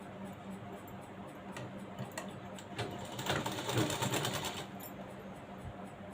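A sewing machine stitches a cross strip onto a lined blouse, its needle ticking in a quick run that swells louder and denser midway, then eases back to a light patter, with no voices.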